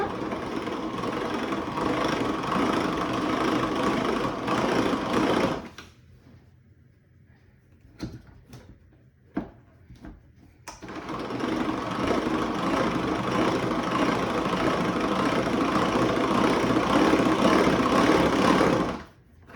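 A kitchen mixer whirs loudly and steadily at low speed while mixing an apricot and ginger cake batter. It stops for a few seconds with a few soft knocks, then starts up again and keeps running.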